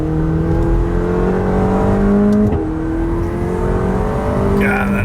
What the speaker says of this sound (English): God, that exhaust note is so amazing. I love hearing the turbos.